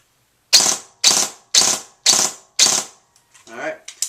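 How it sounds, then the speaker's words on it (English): An airsoft gun with a DTW cylinder fires five sharp, evenly spaced cracks, close and loud, followed by quieter mechanical clicks and a brief murmur of voice at the end. "Gonna do the 3-shot burst now."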